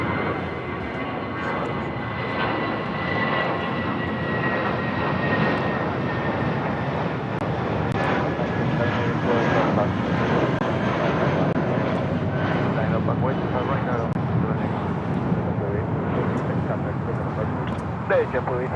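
A JetBlue airliner at LAX airport gives a sustained jet roar that swells and fades in the distance on a sunny day, under a steady, constant mix of aircraft noise.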